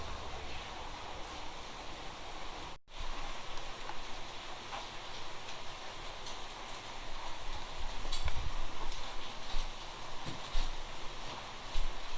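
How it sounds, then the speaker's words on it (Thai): Steady rain falling outdoors, a dense, even hiss that swells slightly near the end, with a brief sharp dropout early on. "ฝนมันตก"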